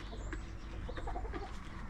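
Backyard garden chickens cluck softly in a few short, faint calls over low background rumble, with no talking.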